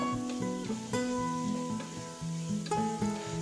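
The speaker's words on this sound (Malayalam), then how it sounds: "ഇത് നന്നായി ഇളക്കി യോജിപ്പിച്ച ശേഷം ഇനി നമുക്ക് ഉപ്പ് ചേർത്ത് ഒന്നുകൂടി ഇളക്കി കൊടുക്കാം." Onions sautéing with salt in a pan, a steady close sizzle with scraping stirring strokes throughout, no talking.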